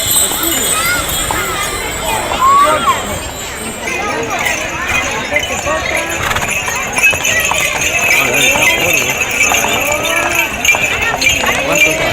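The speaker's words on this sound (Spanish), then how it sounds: "Cinco caballos. 5 caballos." Horses' hooves clip-clop on the street during the Tres Tombs parade in Vilanova i la Geltrú, a steady patter of hoofbeats amid crowd noise and people talking nearby.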